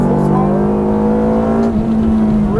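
A Ferrari F430 F1 at full throttle on a racing circuit, its engine wailing in a loud, steady, close-up howl that climbs in pitch, drops briefly near the end, then starts rising again.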